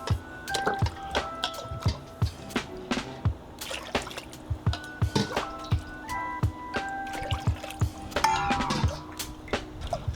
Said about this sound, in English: Now we're going to add a bit more water.